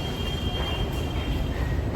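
Kolkata Metro train running, a steady loud rumble of wheels and carriage noise with a faint high whine throughout, continuous and close.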